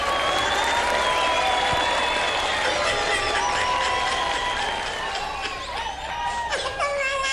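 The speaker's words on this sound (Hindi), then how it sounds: "मेरी सारी टीम तालियां बजाओ।" Team members clap on a television show set, a steady wash of applause mixed with crowd chatter and scattered laughter, with a voice rising over it near the end.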